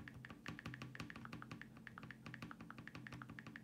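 Rapid tapping on an iPhone 6s on-screen keyboard running an iOS 12 beta, a quick irregular stream of light clicks, faint and close, continuing steadily with no voices.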